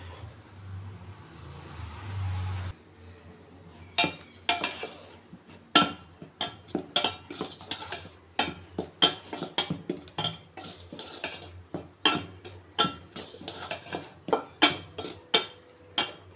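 Ragi flour dough stirred with jaggery water in a vessel: a spoon scrapes and clinks against the metal in a quick irregular series of sharp strokes after a short low hum at the start.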